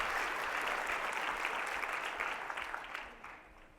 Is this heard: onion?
no